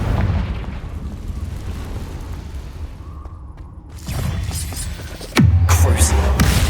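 A Confringo blasting curse explodes in Hogwarts Legacy, a sudden loud blast with a rumbling tail cutting through dense combat noise and a lower rumble, close and forceful.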